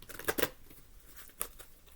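A spirit animal card deck is shuffled close by in quick soft flutters and snaps, a cluster of crisp riffles early on and another sharp burst near the end, with no talking.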